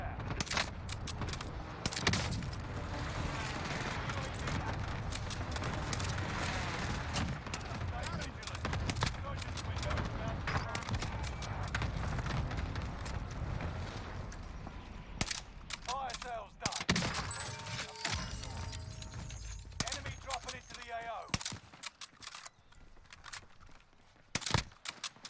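Kar98k sniper rifle fire in Warzone, scattered sharp shots amid a busy battle of other gunfire, footsteps and game noise, with talk over parts of it and a quieter, sparser stretch near the end.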